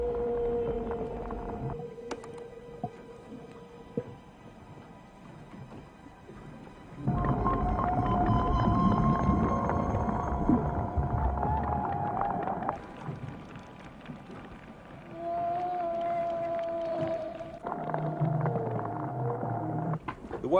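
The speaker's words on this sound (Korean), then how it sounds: "고래가 내는 소리 같은데요? 네, 그렇죠. 바실로사우루스를 찾은 것 같습니다." Long, low whale-like moans and tonal groans drift through deep water, thought to come from Basilosaurus, rising and falling in slow, distant-sounding phrases over a murky rumble.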